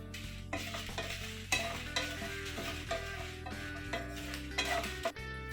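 Red chilies dry roasting in a pan for betel leaf rasam, with steady stirring, scraping and light sizzling throughout and a few louder clinks of utensil on metal.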